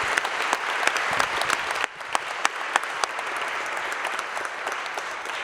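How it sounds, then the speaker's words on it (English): A summit audience at a healthy cities event breaks into loud, sustained applause, dense clapping from many hands with a few sharper claps standing out, briefly dipping near the start and then continuing steadily. "And again, a big round of applause."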